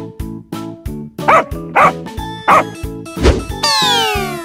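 A dog barks several times in short, evenly spaced yaps over a steady, cheerful electronic music loop, ending in a bright rising sweep.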